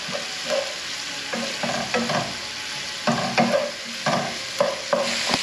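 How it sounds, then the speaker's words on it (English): Garlic sizzles with softened onions in a hot pan, a steady frying hiss broken by repeated stirring scrapes and clicks of a utensil, close and loud with no talking. "Add my garlic, cook that down for a minute or two, very quickly."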